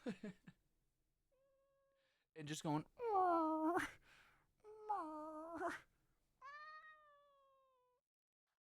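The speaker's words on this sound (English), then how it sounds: "She's purring so hard right now." A pet cat, a female, meows several times in short drawn-out harmonic calls, close and clear, with brief human speech at the start; no steady purr stands out.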